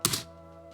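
A single sharp keystroke on a computer keyboard at a Linux terminal, a close thunky tap that fades into a steady low electrical hum.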